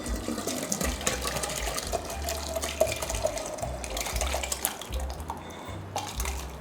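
A steady stream of about two liters of seafood soup pouring into a pot, continuous splashing and gurgling close by with no talking.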